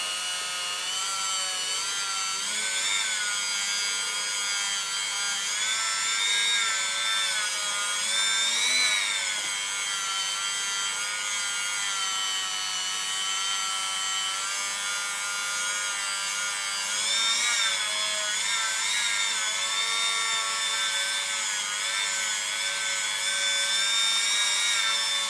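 Power polisher buffing deep scratches out of a motorcycle exhaust, a continuous high whining hum with slight pitch wobbles as the pad is moved slowly, loud and close, no voices.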